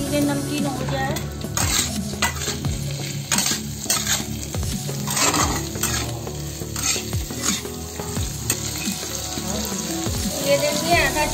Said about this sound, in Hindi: वेजेस बिल्कुल फ्राई हो चुकी है